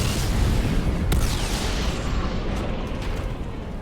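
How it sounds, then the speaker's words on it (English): Missile barrage explosions from the Batmobile in Batman: Arkham Knight, a dense rumbling blast with a sharp crack just after one second, then rolling, sustained booming that slowly fades, loud throughout with no talk. "Oh wait, I've got missile barrage."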